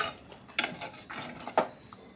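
A utensil stirs chicken gravy in a metal pot, with several scraping, clinking strokes at an uneven rhythm, close and fairly clear, with no talk over it.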